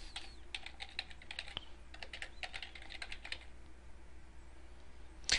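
Fingers type a username on a computer keyboard while setting up an employee account in scheduling software, a steady run of quick, light key clicks in short bursts with brief pauses, close and moderately quiet, ending in a sharper click.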